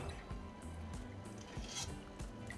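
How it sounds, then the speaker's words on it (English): Ladle scooping vegetables and greens out of a pot of Mexican chicken soup, soft clinks and wet squishes of metal against the pot in a few quick, faint scoops. "we're just going to scoop out the rest of our vegetables and greens"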